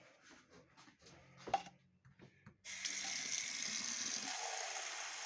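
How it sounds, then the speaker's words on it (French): Water pours from a tap into a yogurt pot holding tomato seeds. A few soft clinks and handling sounds come first, then a steady close rush of running water fills the rest. "Et ensuite, on y met de l'eau."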